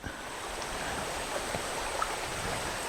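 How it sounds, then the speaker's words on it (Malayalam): Water flows through rocks in a village stream in Thailand, a steady rushing, continuous and even, with small splashes and gurgles now and then. "വെള്ളം ഇങ്ങനെ ഒഴുകുമ്പോൾ ഈ പാറക്കെട്ടിൻ്റെ ഉള്ളിലൂടെ ഒഴുകുമ്പോഴുള്ള ശബ്ദമുണ്ടല്ലോ"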